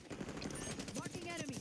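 Rapid automatic gunfire in the Call of Duty: Warzone video game, a quick faint burst of shots with game voice chatter mixed in.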